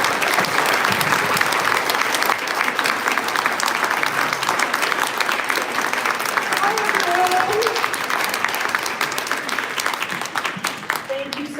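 Crowd at a bookstore gathering applauds to welcome a congresswoman, sustained dense clapping that holds steady for several seconds and then tapers, with some voices underneath.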